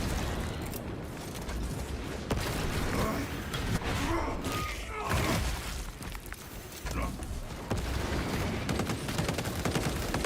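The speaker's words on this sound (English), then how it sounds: "Tossing frag grenade." A frag grenade blast in a solo stratagem-style shooter game: a burst of explosive noise amid continuous gunfire and combat clatter, with a character's voice talking over the dense, loud mix.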